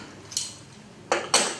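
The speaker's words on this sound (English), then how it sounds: "I'm just going to lift the pan holder off so that you can see what I'm doing" A metal pan holder lifted off a methylated spirits stove gives three short metallic clinks and scrapes, one light and two louder close together, near and clear with no talking.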